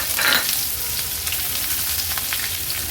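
Chopped onion frying in hot ghee with bay leaf during tempering, a steady close sizzle with a louder hiss at the start, then continuous crackling and spattering throughout.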